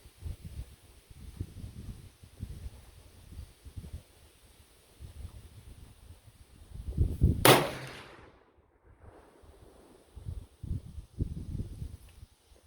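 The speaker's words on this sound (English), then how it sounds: "Looks like it's shooting dead on, just like the 300 grain lead cast." A single sharp, loud gunshot from a .454 Casull revolver firing a 300-grain bullet cracks out at an outdoor range, ringing briefly over light wind rustle before and after.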